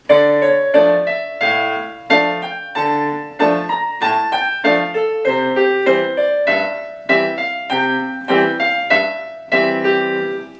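Solo piano plays a song slowly, a country-style melody, each chord and note struck distinctly and left to ring in an unhurried, even rhythm.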